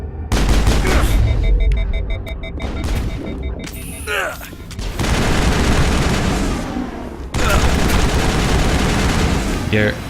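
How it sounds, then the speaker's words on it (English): Gunfire and pistol shots ring out during combat in the Mass Effect video game at Rift Station, arriving in loud, close bursts and rapid volleys separated by short lulls. "And Garrus, why are you on pistol?"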